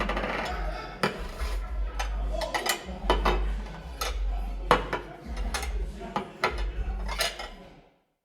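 Dishes and cutlery clinking and clattering in an indoor room with running water and reverb, steady low rumble underneath with repeated sharp metallic clinks throughout, fairly close.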